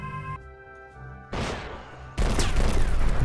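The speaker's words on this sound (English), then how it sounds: "Here comes a double missile." A double missile attack in a spaceship combat game, a tonal hum cut off by one loud blast and then a second heavier explosion that roars on, close and forceful with no talking.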